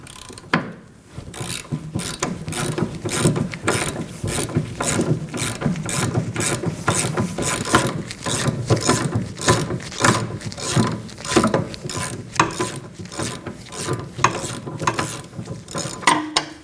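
Ratchet wrench with a 19mm socket loosening a bolt on a 2011-2016 Kia Optima during rear parking brake shoe work, a close, loud run of rapid regular clicks continuing for many seconds with no talk.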